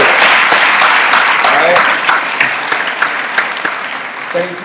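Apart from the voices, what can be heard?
audience applause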